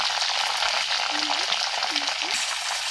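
Fenugreek seeds frying in hot oil for a homemade ayurvedic oil give a loud, steady, close sizzle throughout, with a faint voice briefly underneath.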